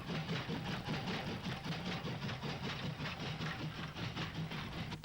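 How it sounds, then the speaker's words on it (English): A Southern Railway Schools Class steam locomotive hauling an up express rushes through a station near Folkestone, a loud, steady rumbling roar with rhythmic clatter of wheels and carriages throughout. "A Schools Class 440 passes through the station on an up express"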